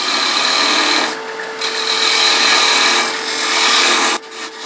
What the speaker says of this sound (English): let's go ahead and part that off with a thin parting tool